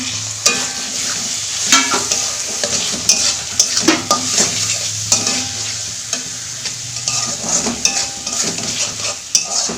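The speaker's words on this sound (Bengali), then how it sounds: "মশলাটা ভালো করে একটু কষাবো" Spiced masala with a little garam masala being stir-fried in a pan for a prawn and taro dish, a steady hiss of frying broken by sharp scrapes and clinks of a spoon against the pan, close and loud.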